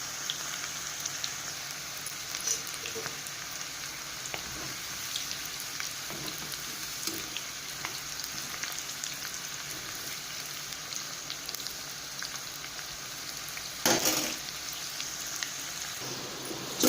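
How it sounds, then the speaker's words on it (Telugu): Cauliflower pieces deep frying in oil for Gobi 65 make a soft, continuous bubbling hiss, like light rain, with one sharper clatter near the end and no talk. "ఇవి చక్కగా గోల్డెన్ బ్రౌన్ కలర్ వచ్చే వరకు మనం ఫ్రై చేసుకోవాలి"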